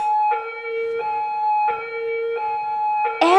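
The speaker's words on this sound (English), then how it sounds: "We have the ambulance." An ambulance siren wails alone in a steady repeating two-tone pattern, loud and clear, cycling several times in quick succession.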